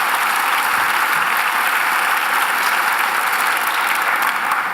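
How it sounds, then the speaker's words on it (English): An audience at a town hall applauds, a steady dense wash of clapping from many hands that holds at full strength throughout. "Can you give Senator Wofford a round of applause?"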